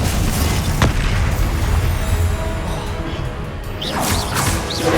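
Spell blasts such as Confringo and Glacius in the video game Hogwarts Legacy, heavy booming explosions and crashing impacts layered with whooshes, loud and continuous with no pause.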